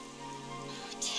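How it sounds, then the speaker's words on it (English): Rain pattering on surfaces in Dragon Quest XI, a soft steady hiss of drops over a low background drone, brief and moderately quiet, with a brighter splash at the end and no talk. "It would have to go and start raining, wouldn't it?"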